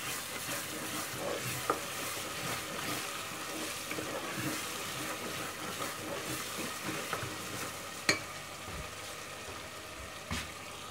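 Masala with kasuri methi sizzling and frying in a pan while being stirred, a steady close crackle with occasional sharp clicks of the spoon against the pan.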